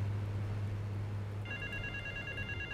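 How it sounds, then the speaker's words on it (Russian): A telephone bell rings inside the video game GTA 3, a steady electronic trill entering halfway through over a constant low hum and background game noise, moderately loud and alone without talk. "Какой-то звонок здесь звенит."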